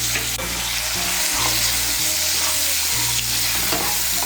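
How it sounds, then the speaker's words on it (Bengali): Potato pieces frying in hot oil seasoned with salt and turmeric, a steady loud sizzle running throughout with faint stirring, and a low background hum under it. "তেলের সঙ্গে আলুগুলোকে মিশিয়ে নিয়ে লাল করে ভেজে নেব"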